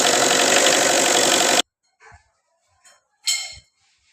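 A Tata Indigo engine idles after a timing belt and water pump change, a loud, even running hum for under two seconds that cuts off abruptly, followed by a few faint scattered sounds.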